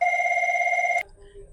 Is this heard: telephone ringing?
yes